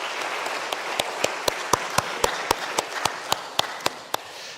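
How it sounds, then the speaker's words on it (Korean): A church congregation at a Sunday afternoon worship service claps together, with dense applause carrying steady, evenly spaced rhythmic beats that run for several seconds at a moderate level. "우리 다시 한번 박수 한번 치겠습니다"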